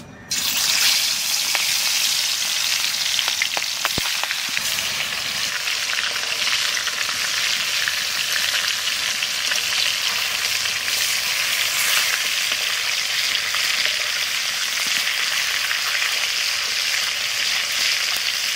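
Rohu fish frying in hot oil in a pan, a loud, continuous hissing sizzle that holds steady throughout, close up with no talking.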